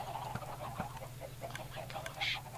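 Minecraft chickens cluck in short, faint, scattered bursts over a low steady hum, with a brief higher squawk near the end.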